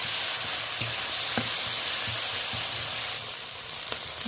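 Ginger paste sizzling in a hot pan, a bright, continuous hiss of frying broken by a few soft taps of a spoon, close up and with no one speaking.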